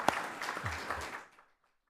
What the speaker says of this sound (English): could we have a big round of applause for Brea for hosting?